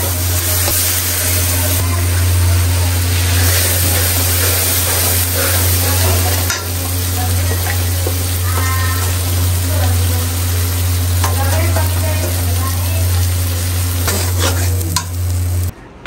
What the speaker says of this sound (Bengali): মাছের ডিম ভুনা করার জন্য পেঁয়াজ করছি